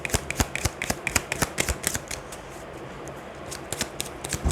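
Tarot cards being shuffled and drawn, a rapid run of crisp card flicks and slaps that thins out in the middle, then returns with a few more snaps, close and fairly quiet with no talking.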